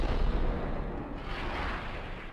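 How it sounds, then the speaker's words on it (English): Gunfire in the video game Max Payne 2: a dense, continuous barrage of loud, booming shots with no pauses, close and filling the space, and no talk over it. "Alright, who's shooting at me?"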